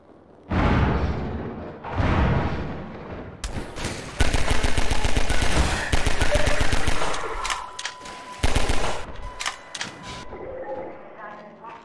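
Loud automatic gunfire in the RTX-enhanced Half-Life 2, with two short blasts and then a long stretch of rapid, dense bursts and fusillades that taper into scattered shots.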